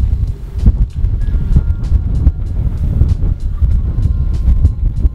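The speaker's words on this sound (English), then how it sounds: "Crazy windy today." Heavy wind buffets the microphone in low, gusty rumbles and irregular thumps, loud and close throughout, in light snow.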